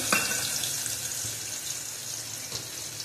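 Spice paste thinned with water hits a pan of fish curry, giving a continuous loud hiss and sizzle with a watery pouring wash that runs steadily for a few seconds.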